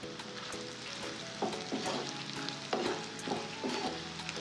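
Dried ghee fish frying in a pan with green chillies and onion, a steady close sizzle broken by several stirring scrapes, with no talking.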